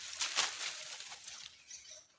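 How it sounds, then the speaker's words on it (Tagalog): A soft, brief flurry of wings flapping, faint and a little distant, with a few quick whooshing beats against quiet surroundings. "ang daming ibon."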